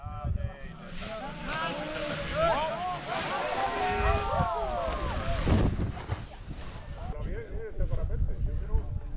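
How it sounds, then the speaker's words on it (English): Strong gusting wind buffets the microphone at a paragliding takeoff in Algodonales, Andalucia, a loud continuous roar with swelling gusts while people talk throughout. "There's a lot of wind now coming from each direction and a lot of dust devils went up just a minute ago."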